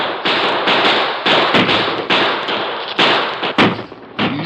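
Gunfire effect in an old Lone Ranger radio drama: a rapid volley of loud, sharp shots, roughly ten bursts in uneven rhythm, close and with no voices over them.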